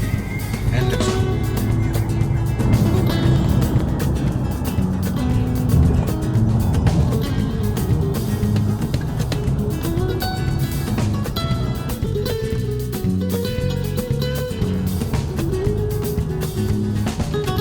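Car cruising on a busy highway in heavy traffic while carrying a drilling and milling machine for delivery: steady, loud road and engine rumble throughout, with passing-vehicle noise layered over it.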